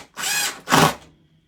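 Power drill driving screws into small furniture legs, two loud whirring bursts of about half a second each separated by a short pause, then a faint hum as it stops.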